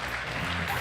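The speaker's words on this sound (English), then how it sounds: "Make some round of applause for him." Audience applause at a European youth capital award ceremony, a brief wash of clapping from a hall crowd at steady moderate loudness.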